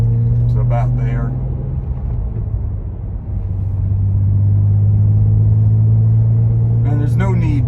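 A 2008 BMW 328i's engine drones loudly and steadily from inside the car, dipping briefly as gears are changed smoothly around 2,500 RPM before settling back into a constant hum, with someone talking over the start and end.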